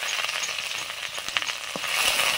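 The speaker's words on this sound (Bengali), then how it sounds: "এবারে চপের আলুটা কষে নিচ্ছি।" Boiled potato filling for potato chops sizzles and hisses in a pan while being stirred, with occasional scraping clicks; close, steady frying, no talking.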